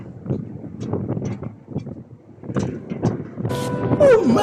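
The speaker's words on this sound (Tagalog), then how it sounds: "Lakas ng hangin guys." Strong wind at the top of a Simma tower crane buffets the microphone in uneven gusts and rumbling blasts that rise toward the end, loud and close, with a brief squealing tone near the finish.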